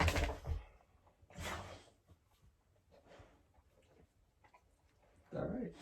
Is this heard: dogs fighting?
yes